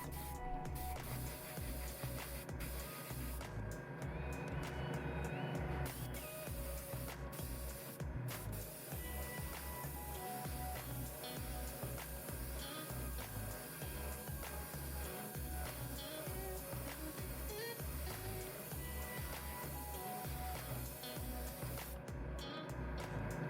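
An airbrush hisses steadily as it sprays paint onto a Gunpla propellant tank at fairly high pressure, a continuous airy spray with short pauses and background hum, no talking.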